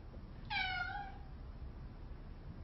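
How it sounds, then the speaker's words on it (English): A domestic cat gives a single clear meow, drawn out and falling in pitch, fairly close against a quiet low hum of room noise. "And then my cat was meowing,"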